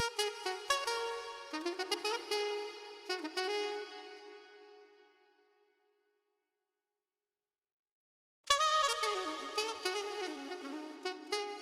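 A funky horn sample for an afrobeat track plays as bright brassy stabs and short phrases, fades to silence for a few seconds, then resumes loudly.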